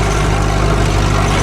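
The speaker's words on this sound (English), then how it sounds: "stinky old diesel engine just pumping the gas straight into the cab" Old diesel engine with an exhaust pipe split just below the cab, running close and loud with a steady low, chugging idle throb.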